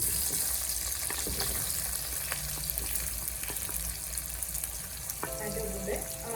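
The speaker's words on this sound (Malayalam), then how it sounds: "ആ ഓയിലിൽ നമുക്ക് സബോള ഇട്ട് ഒന്ന് വഴട്ടാം" Onions sautéing in hot oil left in the pan after frying, for a brinjal curry, give a steady soft sizzle and crackle throughout, with a few clinks of a utensil and a brief tap-like hiss near the end.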